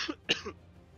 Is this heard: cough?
yes